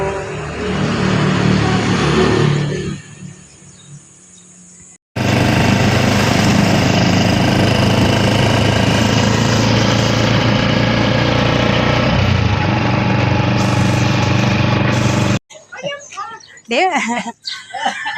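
A motorcycle engine drones loudly and steadily for several seconds in the middle, bracketed by quieter outdoor sounds and a rooster crowing near the end.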